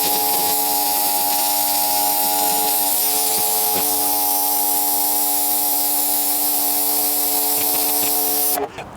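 A V-Tuf V5 pressure washer sprays a patio through its nozzle, making a loud steady roaring hiss over a constant motor drone that runs unbroken until it cuts off at the end; no voices.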